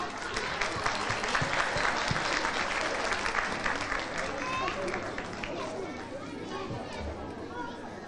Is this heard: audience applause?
yes